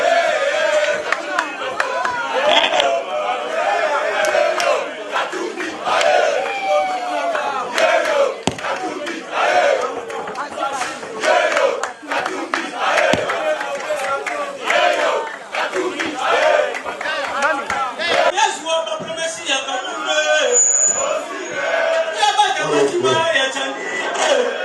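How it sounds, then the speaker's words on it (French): A dense crowd at a political gathering in Congo shouts and chants continuously, loud and close, with overlapping voices and some cheering. "le foule est là, le foule est là"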